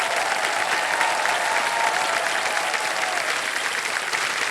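Sustained applause from an audience, a dense wash of clapping at steady volume throughout.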